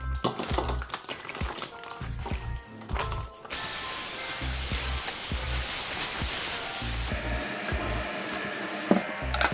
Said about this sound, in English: taking the fish out of the packets, putting it in the colander, ready for me to wash it